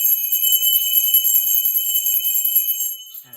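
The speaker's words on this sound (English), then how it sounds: "Let me ring this bell." A hand bell rung steadily and continuously, bright and loud, ringing alone before it stops abruptly at the end.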